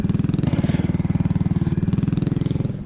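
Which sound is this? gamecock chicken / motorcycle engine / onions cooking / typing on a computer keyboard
motorcycle engine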